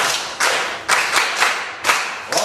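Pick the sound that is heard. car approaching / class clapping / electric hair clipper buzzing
class clapping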